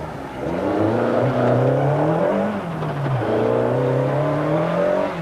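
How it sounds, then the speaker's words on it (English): A 1991 rally car on a stage approaches with a loud engine note that climbs through the gears, dips on a shift and climbs again, growing nearer and staying prominent throughout. "There's a car coming."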